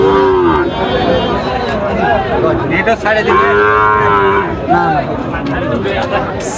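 Cattle mooing loudly and close at Chhatra cattle market in Niamatpur, Naogaon, with long drawn-out calls rising over the busy chatter of a crowd.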